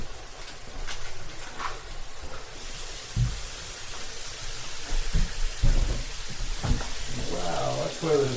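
Water pours steadily into a shower pan during a leak test in a house under inspection, a continuous hissing splash with a few low knocks and thuds, and a voice briefly heard near the end.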